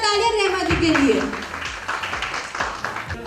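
An audience at a women's awards ceremony breaks into steady, dense applause that fills the room, following a brief voice at the start and continuing at an even level to the end.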